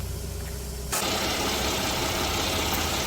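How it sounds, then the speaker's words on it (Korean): A Genesis BH330 car with about 240,000 km on it and a warning light on idles steadily, a continuous close engine hum that grows louder after the first second, probably as the engine bay is opened, with no talk. "제네시스 자동차입니다. 아이들 상태에 있고요."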